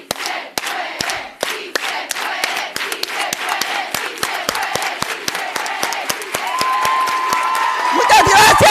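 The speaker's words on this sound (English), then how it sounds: "An organized hand clap. Okay, unified hand clap, feminist hand clap" Crowd at a town hall clapping in unison, sharp regular claps in a steady beat that build into shouts, cheers and chanting voices toward the end, loud and near.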